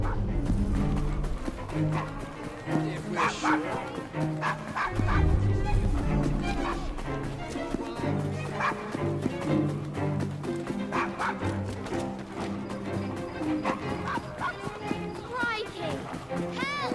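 A dog barks repeatedly in Assassin's Creed Syndicate, with yips over busy game ambience and ongoing talk.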